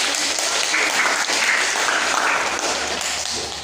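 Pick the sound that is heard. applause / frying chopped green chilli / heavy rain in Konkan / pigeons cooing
applause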